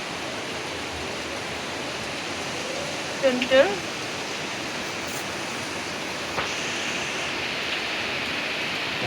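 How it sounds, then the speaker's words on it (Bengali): Heavy rain pours down in a constant, broad rushing roar that fills the whole scene, with a brief voice and a few small knocks rising above it. "কি বৃষ্টি আজকে!"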